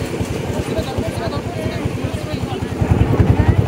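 A boat engine chugs with a fast, loud, steady pulse while the boat moves along a river beneath a rail bridge, growing a little stronger toward the end.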